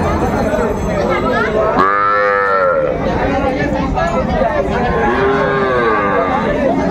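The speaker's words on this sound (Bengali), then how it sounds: "ষাঁড় বাচ্চা" A young bull calf moos loudly at a crowded cattle market in Dinajpur, two long drawn-out calls close by, with market chatter and voices talking around it.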